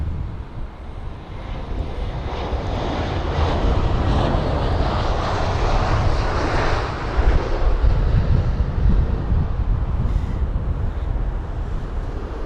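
A Finnair Airbus A320-200 jet arriving at London Heathrow, its engines a steady broad roar that swells slightly midway and holds loud and continuous throughout, with no voices.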